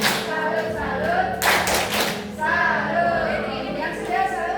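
A classroom group clapping the rhythmic 'tepuk salut' cheer: bursts of hand claps in a patterned beat, loud and close, with children's voices chanting over it.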